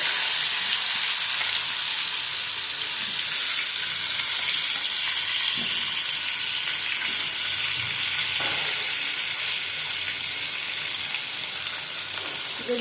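Potatoes sizzle loudly in hot oil in a pan with mutton, a steady dense frying hiss throughout with occasional soft stirring clatter, no voices.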